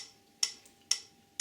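Metronome clicking at 124 beats per minute, three sharp ticks about half a second apart, faint and alone.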